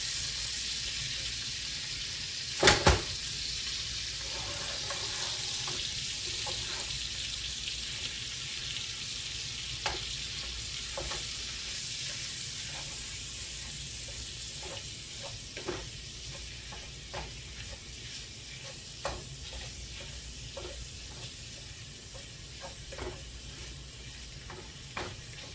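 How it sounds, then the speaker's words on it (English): Hamburger ground beef fries in a skillet after bacon, a steady close sizzle with a sharp clatter near the start and light stirring scrapes spaced throughout. "I love cooking hamburger in the skillet after I fried the bacon."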